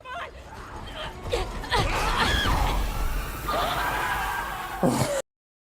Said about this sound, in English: First it's a growl, growl, and then it's a scream, and then it's like almost like a roar